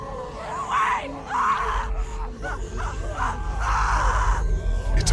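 A woman screams repeatedly in The Walking Dead video game, several drawn-out, anguished cries over a low rumbling background with other game noises.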